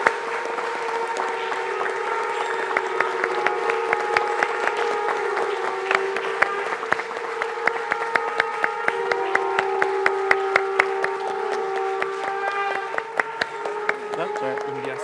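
A room full of people at a 2019 India IPO celebration claps for about fifteen seconds under a steady sustained tonal drone. Scattered sharp claps punctuate it, and chatter runs underneath.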